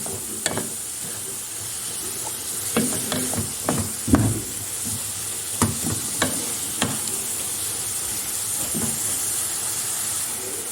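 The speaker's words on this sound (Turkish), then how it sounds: "Ve yeniden güzelce karıştırıyorum." Chopped leeks with red pepper flakes are stirred in a frying pan under a continuous sizzle, with scattered scrapes and clinks of the spoon against the pan.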